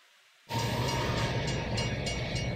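Train in a music video: after a brief near-silence, a loud rushing rumble of a passing train cuts in abruptly and holds steady, with faint rhythmic clatter, no speech.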